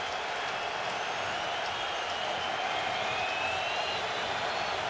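A large football stadium crowd at a Fresno State versus Hawaii college game roars in a sustained, even wash of cheering and applause after a big play, with no individual voices standing out.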